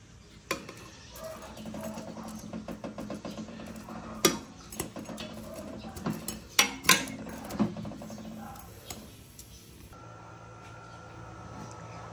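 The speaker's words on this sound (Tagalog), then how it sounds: "Haluin ko lang siya sandali." A spoon scrapes and knocks against a pot of beef mechado set for pressure cooking, giving irregular metallic clinks and taps over a low background, with a few sharper knocks in the middle before it quiets.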